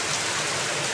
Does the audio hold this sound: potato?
no